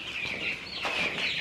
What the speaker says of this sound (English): you're catching chickens for me